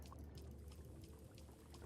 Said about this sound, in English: So we're gonna deposit all this water.